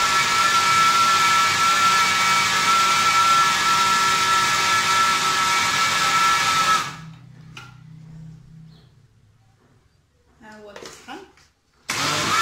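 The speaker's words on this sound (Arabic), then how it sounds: "دغيا كيتطحن، غير جوج طحنات وصافي ولا ثلاثة." A kitchen blender grinds simple ingredients for a quick chilled dessert, a loud steady whirring roar for several seconds that cuts off abruptly, followed by faint handling noises and then another short burst.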